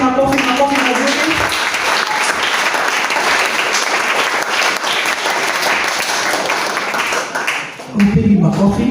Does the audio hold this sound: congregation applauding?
yes